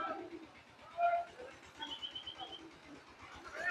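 Pigeons coo faintly on a cattle farm in Jessore, Bangladesh, a soft, low, repeated murmur in the background with a few brighter calls above it.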